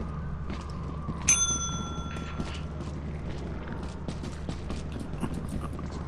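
A single bright bell ding in the video game Lethal Company, followed by a brief decaying ring and then scattered soft clicks and footsteps over a steady low hum, with no further clear strikes.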